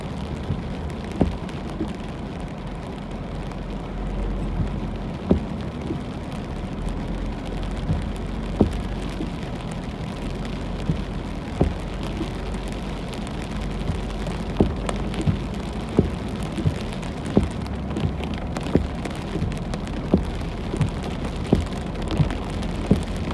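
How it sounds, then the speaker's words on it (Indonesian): Heavy rain pours steadily onto surfaces in a constant dense hiss, with scattered sharper drip and splash impacts throughout and no voices. "hujannya deras."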